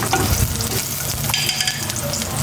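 Garlic sautéing in a hot pan gives a steady, close sizzle with frying crackle and stirring scrapes throughout, with no talk.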